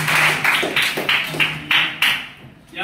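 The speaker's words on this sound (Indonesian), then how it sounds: "Kita tepuk tangan untuk dia." A small group claps in a steady, quick unison rhythm for a participant during a Catholic religious education teacher-training session in Merauke, roughly a dozen evenly spaced claps close by with no talk.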